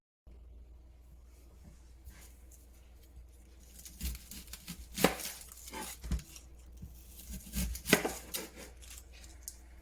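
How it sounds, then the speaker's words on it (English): Onions chopped with a knife on a cutting board while making egg bites, several sharp chops spaced out over a few seconds in a quiet kitchen, close and fairly faint. "I like to top and tail my onions before I cut them. Then I cut them in half."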